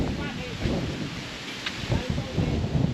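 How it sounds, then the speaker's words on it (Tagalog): Rain falls in a rural Quezon province setting, a steady hissing patter with gusty rumbles, while people talk faintly underneath. "Umuulan."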